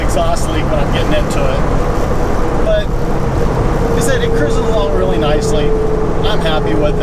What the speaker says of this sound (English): And you can really hear the exhaust leak when I'm getting into it.